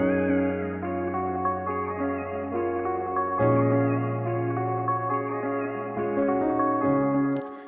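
A bright synth melody pitched up an octave plays in a high register, sustained chords and notes with echoing, reverberant tails, no voices present.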